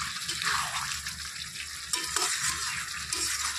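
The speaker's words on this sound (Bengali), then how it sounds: "আবার একটু নেড়ে চেড়ে দিচ্ছি" Chicken kalia curry stirred in a pan, giving a loud continuous sizzle with soft scraping and a few sharper knocks from the spoon, close up and with no speech.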